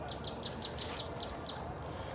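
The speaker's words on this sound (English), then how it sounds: "Hanging out over here with the birds." Birds chirping outdoors in the Philippines, a steady series of short, evenly spaced high chirps over a constant background hiss, fairly faint.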